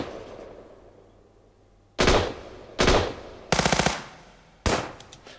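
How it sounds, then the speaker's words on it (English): Loud recorded indoor gunfire, soloed in Pro Tools with added reverb: single shots and one rapid burst, each followed by a short echoing reverb tail in an enclosed space. "we've got some gunfire indoors. So I've soloed these guns and there's a little bit of reverb on it."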